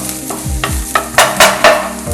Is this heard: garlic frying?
yes